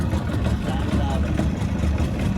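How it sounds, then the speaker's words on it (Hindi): A boat's engine idles steadily right after being kick-started, a continuous mid-pitched motor drone at close range with faint voices underneath. "तो इंजन जो है वो स्टार्ट हो गया है फाइनली"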